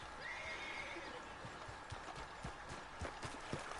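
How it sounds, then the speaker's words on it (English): A horse gives a drawn-out whinny over the soft clatter of hooves, faint and somewhat distant, in the video game Red Dead Redemption 2. "And call my horse."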